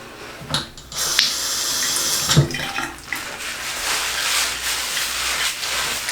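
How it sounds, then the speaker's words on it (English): Water runs from a tap or spray bottle onto hair in several bursts, a steady hissing flow broken by short pauses and splashes, close by. "let me go ahead and add some water to this"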